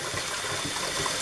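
Hot tap water runs steadily into a burnt pressure cooker pot for rinsing, a continuous close splashing gush with no talk.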